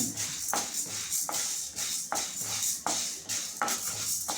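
Urad dal is dry roasted in a pan, the lentils scraping and rattling in regular strokes about every second as they are stirred, close and moderately loud with no talk.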